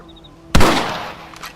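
A single rifle shot in the video game Red Dead Redemption, a sharp loud crack with a short echoing tail, then a fainter pop, heard without talk.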